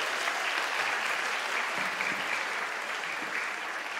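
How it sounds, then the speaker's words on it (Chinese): An audience at a church children's evening applauds a children's dance performance, with steady, dense clapping from many hands lasting throughout. "再一次给他们鼓励和掌声"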